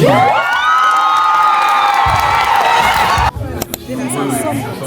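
A crowd at a graduation ceremony claps, cheers and whoops loudly for several seconds, then the noise cuts off abruptly into quieter room murmur and scattered chatter.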